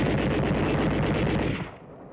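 Machine gun fire from a December 1944 WWII army combat newsreel, a loud continuous rattling burst that cuts off and fades into quiet near the end.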